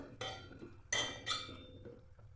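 A lid set onto a cooking pot where eggplant is boiling before greens go in gives a few metallic clinks and clatters, with one sharp knock near the middle and a softer rattle after, close by and with no voices.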